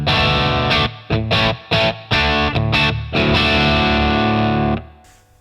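Heavily distorted electric guitar played through a Revv D20 amp into a Two Notes Torpedo 2x12 cab simulation: loud, chunky chopped chords in a stop-start rhythm, then a long sustained ringing chord that cuts off, with no voices.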